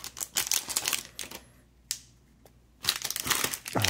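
Baseball card fat pack wrappers being torn open, with bursts of crinkly ripping and rustling plastic close up, a quiet gap in the middle, then more tearing.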